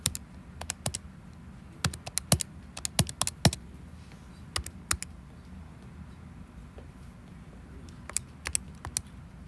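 Numbers are keyed into a graphing calculator for a matrix problem: sharp, quiet button clicks come in irregular bursts of taps with short pauses, close up over a faint low background hum.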